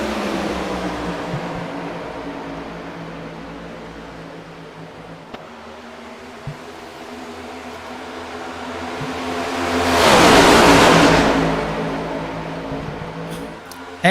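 Stock car racing engines in a Cup Series race at Atlanta hold a steady broad drone, with a full-throttle roar rising loud and close for a few seconds as a car passes, then fading back into the field.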